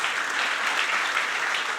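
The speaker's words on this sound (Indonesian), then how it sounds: "Beri tepuk tangan dulu buat Tuhan kita." A congregation claps together during a church worship service at GBI Pantai Permata in Batam, a dense, continuous burst of applause filling the room without pause.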